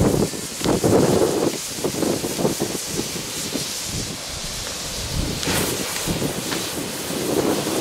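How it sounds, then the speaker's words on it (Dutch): Strong wind roars across the microphone in rough, buffeting gusts, with rustling and low rumbling throughout and no voices. "Wat een wind, joh."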